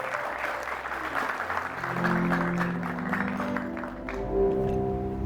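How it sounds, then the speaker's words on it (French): Wedding guests applaud warmly at a ceremony, a sustained crowd of clapping that holds steady throughout while low, drawn-out musical tones swell beneath it toward the end. "Applaudir plus chaud, s'il vous plaît."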